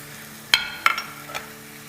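Chopped onion and finely chopped green chili hit hot oil over a high flame, giving a few sharp sizzling bursts and clinks in quick succession, fairly close and moderately loud.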